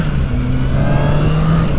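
A 2007 Honda CBR 600 RR sport bike engine revs loud and close for a brief burst, its pitch climbing steadily with no voices over it.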